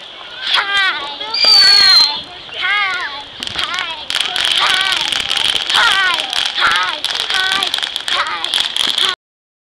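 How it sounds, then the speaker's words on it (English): Fireworks crack and pop in irregular bursts through the whole stretch, partly buried under near children's voices and chatter that run almost continuously. "More fireworks."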